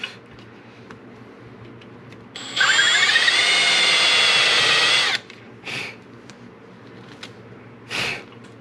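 A power sander works a guitar headstock veneer, a single steady whirring run of about two and a half seconds, loud and close, followed by a few short bursts of scraping.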